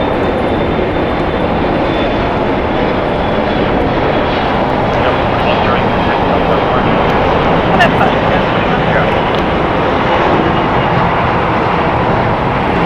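A Boeing 747 landing at LAX after arriving from Anchorage, a loud, continuous roar of jet engines and rushing air that stays steady throughout.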